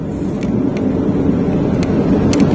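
Honda Brio 1.2 accelerating hard at full throttle, heard as a loud, steady low engine and road roar from inside the cabin, dense and unbroken for a few seconds with no talking.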